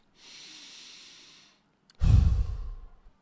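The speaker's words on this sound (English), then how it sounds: "Just take a deep breath." A slow, soft inhale followed by a louder, heavier exhale through the mouth, a single deep breath taken close by in a quiet room.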